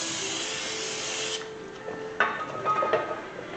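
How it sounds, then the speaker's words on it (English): Brake cleaner hisses from an aerosol can onto a car rotor during a brake job on a 2013 Hyundai Santa Fe, a steady close spray lasting over a second, followed by faint metallic clicks and handling noises. "Spray the rotor with brake clean."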